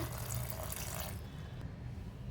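Water is poured into a blender jar over grapes before blending juice, a soft, fairly quiet stream that runs for about a second and then tapers off.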